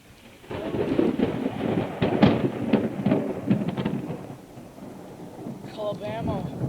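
Thunder rumbles and wind gusts through a rainstorm in Alabama, a broad continuous roar with heavy low-end swells, ending in a brief rising whistle-like tone near the close.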